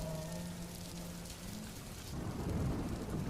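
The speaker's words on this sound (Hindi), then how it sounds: "बारिश बहुत तेज हो रही है, मुझे लगता है नदी में बाढ़ आ गई होगी।" Heavy rain pours steadily as a constant wash, with a low rumble of thunder swelling in the second half; no voices.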